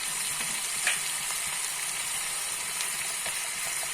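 Spices sizzle hard in hot oil as a tempering for Mangalorean chicken gassi, a steady, close, dense crackle that runs unbroken with no voices.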